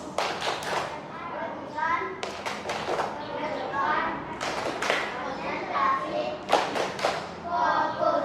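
A classroom of primary school children performs a rhythmic clap routine in unison: bursts of sharp claps and thumps alternate with chanted group voices and a teacher's speech throughout.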